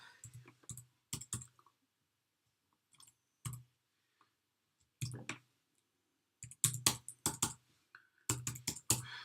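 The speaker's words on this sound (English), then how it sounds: "So I'm just going to quickly type the email address." Short clusters of quick, close clicks from a computer keyboard as an email address is typed, with quiet gaps between bursts and no talk.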